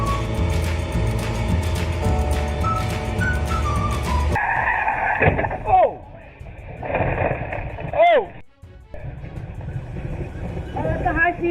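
A car racing in a high-speed chase, tires squealing in sharp repeated skids and the engine roaring after a short stretch of music, loud and close.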